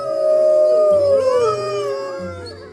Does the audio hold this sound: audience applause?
no